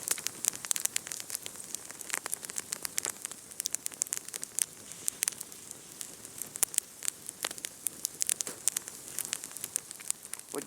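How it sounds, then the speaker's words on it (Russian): Campfire burning in deep snow, with dense, irregular crackles and sharp pops spread steadily across a soft hiss, close and moderately loud, with no voices. "Приглашаю к моему костру."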